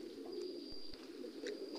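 Pigeons on a pigeon farm coo in soft, low repeated notes over a steady background hum, with a few faint chirps and clicks scattered through.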